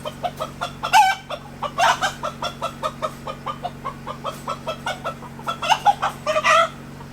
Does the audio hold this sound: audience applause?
no